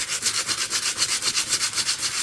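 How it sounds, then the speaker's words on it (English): Hand sanding a filled wooden table top with sandpaper: rapid rhythmic back-and-forth rasping strokes, about six per second, close and steady with no talk. "you could just hit that with sandpaper"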